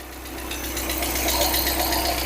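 A Ford Cosworth car engine idling while it warms up in a workshop, a steady close rumbling drone with a faint ticking rattle from a noisy lifter, loud and continuous with no talk.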